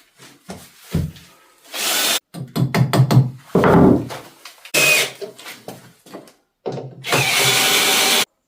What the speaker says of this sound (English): if you've got gears on your driver drill, number one, it's a lower speed for getting these screws home